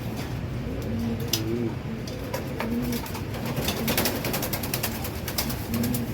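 Racing pigeons coo in soft low bursts, with steady outdoor background noise and some high ticking sounds.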